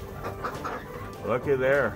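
Ducks, including khaki Campbells, call inside a duck barn with soft, low quacking chatter that swells near the end, while a person speaks briefly over them.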